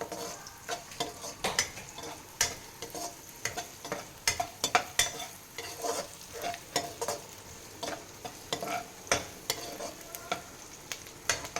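Pasta ingredients being fried in a pan until golden brown, soft sizzling under repeated scrapes and clinks of a spoon stirring against the pot, fairly quiet and close.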